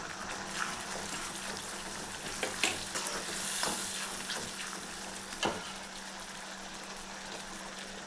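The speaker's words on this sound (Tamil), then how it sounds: "நல்லா தக்காளி நல்லா வதங்கிடுதுங்க." Tomatoes sizzle and fry steadily in a pan, with occasional clinks and scrapes of stirring, continuous and close.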